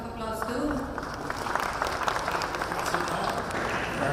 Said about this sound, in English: I think this deserves a round of applause too.